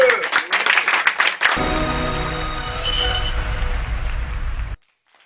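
Studio audience applauding loudly on a French television talk-show set, a sustained dense wash of clapping that swells after a brief opening burst and then cuts off abruptly near the end.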